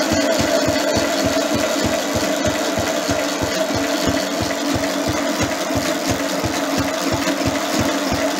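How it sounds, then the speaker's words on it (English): A Lister D stationary engine idles very slowly with an even, regular chuff of low beats, about three per second. The running is loud and steady, with a faint mechanical rattle on top and no talking. "Listen to how slow can a lister idle."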